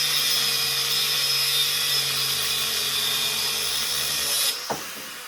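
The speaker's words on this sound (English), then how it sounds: "I used my cutoff wheel to cut the end off" A cutoff wheel grinds through the end of a clamp held in a vise, a steady high whining hum that runs loud and unbroken for several seconds, then stops abruptly with a brief clank as the cut finishes.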